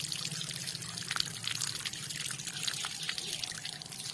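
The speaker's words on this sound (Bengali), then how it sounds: "এই যে জল পড়া শুরু, জল তো ভালোই" Water runs from a newly fitted tap in a steady, close splashing flow, a constant bright rush with occasional drips and spatters.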